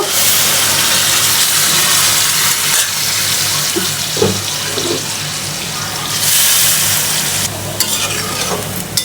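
Water is poured into hot sizzling oil in a pan for a curry broth, giving a loud continuous hiss and crackle with bursts of splashing and stirring, close and steady throughout.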